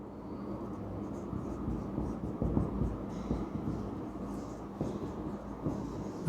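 Marker or chalk scratches across a board as a definition is written in a classroom, in a steady run of short strokes with small taps between them.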